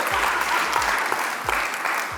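Applause from a live audience at a candid conversation show, a steady wash of many hands clapping, fairly close and continuous for a couple of seconds.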